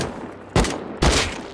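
Two sharp gunshots from a firearm in the survival video game Rust, spaced about half a second apart, each a loud, close blast with a short decaying tail; no talking.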